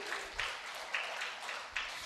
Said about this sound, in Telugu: అది ఇంకా గట్టిగా క్లాప్స్ కొట్టండి.